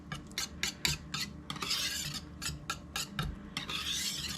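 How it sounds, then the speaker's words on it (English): Pumpkin pie filling of four ingredients is stirred in a bowl, giving repeated scraping, rasping strokes in a steady, uneven rhythm, close and fairly quiet, with no talking. "You just want to mix everything so it's all combined."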